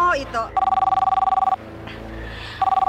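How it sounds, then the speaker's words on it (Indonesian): A mobile phone rings with a steady electronic trill in two bursts separated by a short pause, sounding close and clear after a brief snatch of a voice at the start. "Handphone ibu bunyi."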